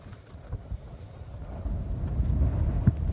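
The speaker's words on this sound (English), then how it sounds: "The old linen is pumping in the wind. There's a lot of wind again." Strong outdoor wind gusts buffet a microphone during plein air painting at the Jump-Ups, a low rumbling roar that swells and grows heavier toward the end, with no voices.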